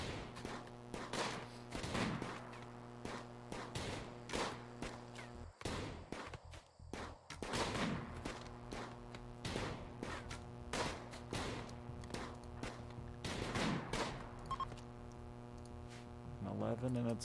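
Gunfire in a RimWorld colony battle, including auto pistol shots, rattles as rapid, evenly spaced cracks in steady bursts over a constant humming backdrop, with one brief pause midway before the shooting resumes.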